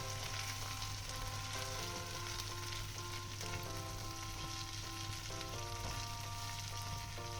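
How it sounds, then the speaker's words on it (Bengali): Potato balls tossed into a sauce in a pan while cooking a honey potato dish, giving a steady, close sizzle with faint stirring throughout and no talk. "আমি এর মধ্যে এবার বলগুলোকে, আলুর বলগুলোকে দিয়ে দেবো, দিয়ে সসের সঙ্গে ভালো করে মিশিয়ে নেব।"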